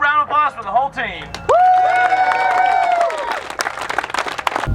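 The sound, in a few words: crowd applause for the rally team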